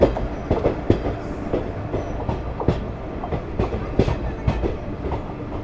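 Ballia Sealdah Express passenger train hauled by a decorated locomotive rolls along the rails, with steady rumble and repeated clickety-clack wheel beats over rail joints, heard up close from on board.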